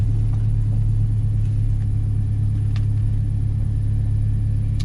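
Turbocharged 500 hp K24 engine in a car on the street, a loud, continuous low droning rumble that holds steady throughout, close and without pauses.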